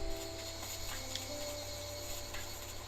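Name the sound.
cicada chirping in the video game Dinkum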